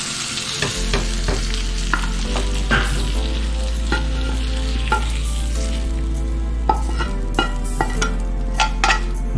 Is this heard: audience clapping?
no